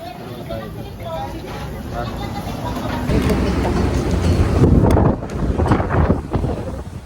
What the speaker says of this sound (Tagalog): Mahangin pa rin po.